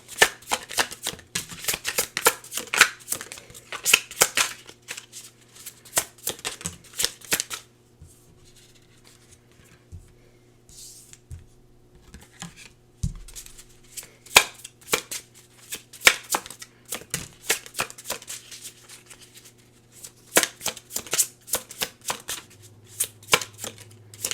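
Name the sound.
shuffling tarot cards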